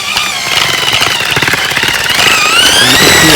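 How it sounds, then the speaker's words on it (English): Large paddle bit drill churning a dry shower mud bed mix, a loud continuous grinding whir with gritty rattling from the thick mortar, close up and without talk. "So we're using a big old paddle bit drill here."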